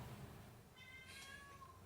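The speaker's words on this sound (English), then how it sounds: "Here comes Parker, meowing like a lunatic." A house cat named Parker gives a single faint meow partway through, heard over low background noise in a quiet room.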